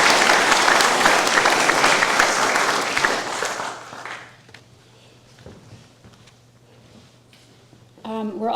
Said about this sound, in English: I'd like to invite you to extend a round of applause for Ben for his service